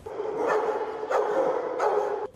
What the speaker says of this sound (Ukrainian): Усі, хто переступає поріг собачого притулку, тутешні мешканці зустрічають радісним гавкотом